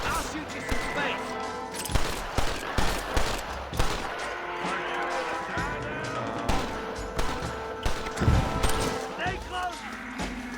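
Rapid gunfire crackles through a Red Dead Redemption shootout, with repeated sharp shots and bursts in uneven rhythm, mixed with voices speaking over the fight.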